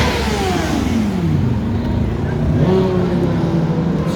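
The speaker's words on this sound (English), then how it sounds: "It's very noisy. You hear motorcycles, vehicles, people talking," Steady street traffic roar on Michigan Avenue in Chicago with motorcycles and other engines revving and passing close by, a continuous loud rumble of vehicles with no clear voices.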